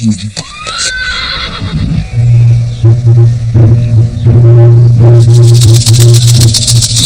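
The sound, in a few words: racing horses neighing in Mongolia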